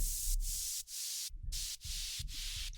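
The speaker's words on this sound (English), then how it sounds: "Then I put some white noise effects underneath it," Bursts of hissing white noise with sidechaining pulse in a steady rhythm under an EDM drop, ducking briefly between pulses, with a soft low thump underneath.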